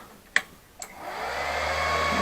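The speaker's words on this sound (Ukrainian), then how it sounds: "Тут мощняцький такий вентилятор." Powerful cooling fan of a Pocweld 200 welding inverter spinning up after two sharp switch clicks, rising into a steady, loud broadband whoosh with a low hum underneath, close by and without talk.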